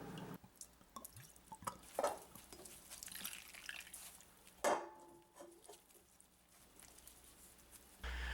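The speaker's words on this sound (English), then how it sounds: "soaking a length of cheesecloth in rum" Rum dripping and pattering from a length of cheesecloth soaked in liquor for wrapping a Jamaican black rum fruitcake, irregular close wet drips with a few sharper splashes, no talking.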